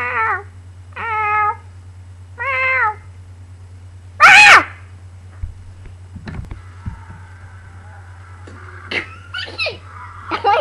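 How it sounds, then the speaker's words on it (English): An angry cat meowing in three drawn-out, whiny cries, followed by a shrill yowl and then creaks and clatter over a steady low electrical hum. "It's funny when the kitty's mad."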